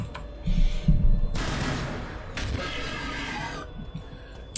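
Grenades burst in a Warhammer Battlesector battle as a sequence of loud, rough blasts and crackling debris, with two bigger noise swells in the middle and smaller thuds before and after.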